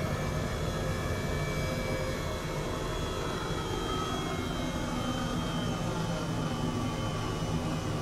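An Airbus H135 helicopter in Microsoft Flight Simulator 2020 drones with a constant turbine whine and low engine rumble, steady and loud throughout with no talk.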